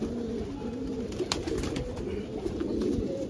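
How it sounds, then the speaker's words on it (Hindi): Soft, repeated cooing from several pigeons kept in a loft, murmuring steadily at low level with faint chirps and background noise, no one speaking. "बहुत बढ़िया हसीन कबूतर है"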